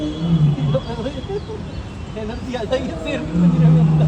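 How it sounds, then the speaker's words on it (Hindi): A white tiger at Gandhi Prani Udyan zoo in Gwalior lets out low, rumbling roars at the start and again near the end, while someone talks excitedly over them. "ये देखिए बाघ की आवाज़ है।"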